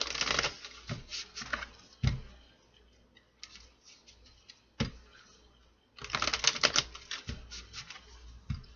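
A Light Seers oracle deck is shuffled by hand in several bursts of rapid crisp card clicks and riffles, close up in a quiet room, with short pauses and single taps between rounds.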